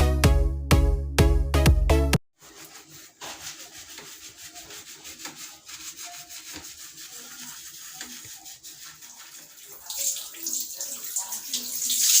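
After a brief burst of musical tones, water runs steadily with soft rubbing and squelching as natural hair is washed, and the flow grows louder and brighter toward the end.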